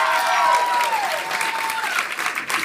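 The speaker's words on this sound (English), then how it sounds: "I want to hear an applause from you" Audience applause at a community event, steady and fairly loud clapping from a crowd throughout, with a faint tonal whistle-like sound running underneath.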